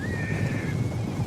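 Horse in Medieval Kingdoms 1212 battle, a sharp whinny near the start over a dense rumble of galloping hooves, loud and close, with no talk.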